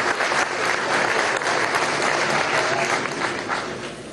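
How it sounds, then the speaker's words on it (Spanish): A crowd at an outdoor public housing handover ceremony in Venezuela applauds for a little girl dressed as a liberator, with steady, dense clapping filling the whole stretch at close range. "Un aplauso para esa niña hermosa, ¿vale?"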